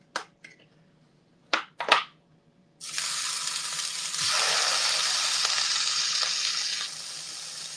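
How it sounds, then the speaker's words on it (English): Chili hits a hot pan with a loud, sustained sizzle and frying hiss lasting several seconds, preceded by a few sharp clinks and taps of utensils, with no voices. "love that sizzle"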